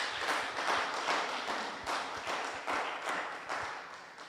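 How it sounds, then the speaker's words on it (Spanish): A church congregation claps along in steady, rhythmic applause that fills the room at moderate volume, continuous for several seconds with a faint pulse of beats and no speech. "Denle fuertes palmas al Señor si usted gusta y lo quiere hacer."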